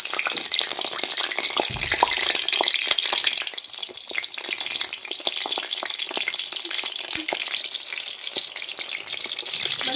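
Pointed gourd (potol) pieces dropped into hot oil in a wok, a loud continuous sizzle and crackle close up, with a thump as they go in and steady spattering throughout.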